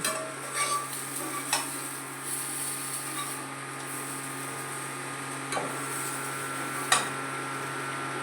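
Pointed gourd (potol) frying in a pan gives a steady, close sizzle with a few sharp clicks and stirring scrapes scattered through, and no one speaks.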